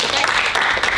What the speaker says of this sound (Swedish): En varm applåd för vinnarna.